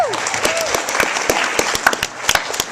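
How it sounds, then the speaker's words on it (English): A crowd at a VidCon 2012 panel bursts into applause, with dense clapping throughout and a few whoops and voices above it. "let's give her a round of applause."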